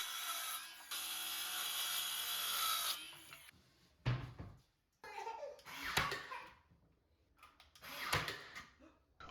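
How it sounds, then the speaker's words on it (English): A saw cuts through a sheet of 1/4-inch plywood for a built-in kitchen banquette, opening with a loud, sustained whining cut, followed by shorter bursts of rough rasping and handling noise nearby. "Then we cut our 1/4-inch plywood that's going to go on the face of the banquette."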